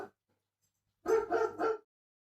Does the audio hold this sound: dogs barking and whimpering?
yes